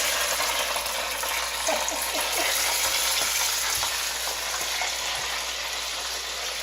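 Loud, steady sizzling of hot oil with scattered small pops and crackles as chilies fry for an Indian vegetable cake (ondvo), no voices.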